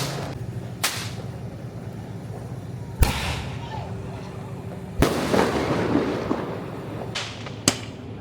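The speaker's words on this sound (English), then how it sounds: "Fireworks, a very Malaysian thing." Fireworks burst on Malam Raya in Kampung Baru, Kuala Lumpur, with several sharp, loud cracks spaced a second or two apart over a steady background hum, some followed by brief crackling tails.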